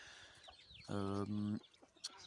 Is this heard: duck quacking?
yes